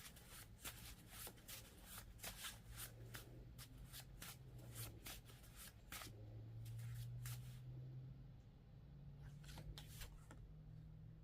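Repeated crisp riffling of playing cards being shuffled, bursts of flapping clicks coming in quick succession, close up, with a faint low hum underneath.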